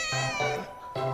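Cats in a cat café meow three times in quick succession, each a clear, fairly loud meow close by, with a short gap before the last one.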